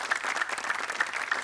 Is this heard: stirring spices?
no